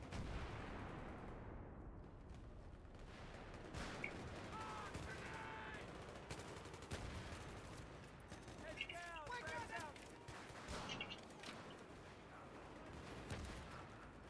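Battlefield 3 multiplayer firefight with dense, continuous gunfire and explosive bursts filling the whole stretch, loud and busy, with brief tonal game effects partway through.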